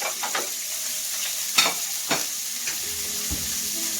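Steady frying sizzle of braciole meat rolls with occasional scrapes and clinks of a utensil stirring in a pan, close by, with no talking.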